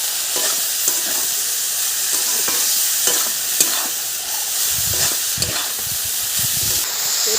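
Bitter leafy greens (gime shak) tossed into a pan with fried potato sizzle steadily in hot oil, with repeated scraping stirs of a spatula close by and no voices.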